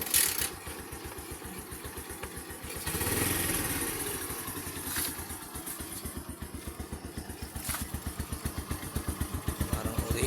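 A Bajaj CT100 motorcycle idles after a muffler repair, its single-cylinder exhaust putting out an even, quiet putter with a steady rhythm, close by, with a brief swell in the middle.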